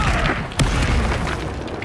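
Confringo blasting spell exploding in Hogwarts Legacy, a loud booming burst that swells sharply partway through and rumbles on under continuous game noise.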